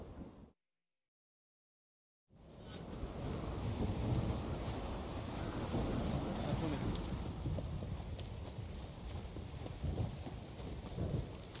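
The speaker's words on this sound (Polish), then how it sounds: "co to takie pioruny?" Deep rumbling thunder in The Witcher 3: Wild Hunt with steady rain noise, starting abruptly after a short silence and continuing loud and dense throughout.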